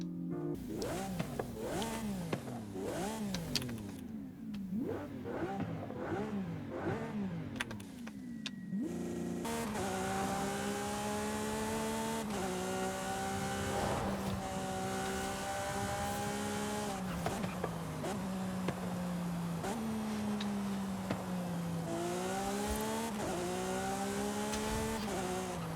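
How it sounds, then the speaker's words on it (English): A Lamborghini Aventador SVJ's V12 engine in Forza Horizon 5 revs repeatedly at first, then screams through rising gear-by-gear acceleration with sharp shifts, loud and close throughout with no talking. "this Lamborghini V12 just sounds insane"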